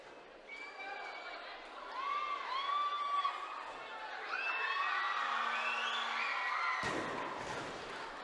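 School children cheering and shouting in an arena crowd to support a Fiji weightlifter at a junior world weightlifting event; high excited voices rise and swell, fairly distant, with a sudden loud thud near the end.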